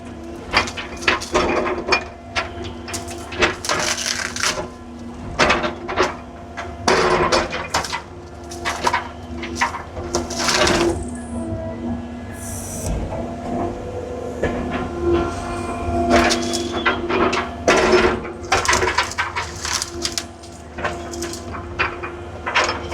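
A skid steer breaks and compacts felled tree branches. A steady engine drone runs under repeated loud cracking and snapping bursts of wood, with no talking.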